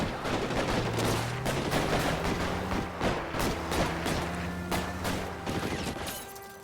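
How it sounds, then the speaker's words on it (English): A shooting at a post office in the game L.A. Noire: dense, sustained volleys of gunfire with overlapping rapid shots, loud and continuous throughout, mixed with a low droning game score. "Why is there a shooting at a post office?"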